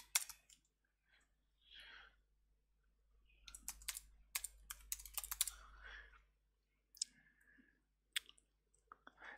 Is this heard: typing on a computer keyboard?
yes